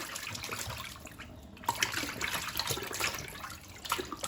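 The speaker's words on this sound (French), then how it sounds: "Là, je la rince bien." Running water splashes steadily over beef tripe being rinsed by hand, a continuous close wash of trickling and spattering with small bursts as the tripe is moved under the stream.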